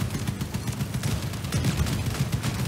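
Rapid game gunfire rattles in a dense, continuous barrage from a shooter game, with bursts layered over one another at steady loudness throughout.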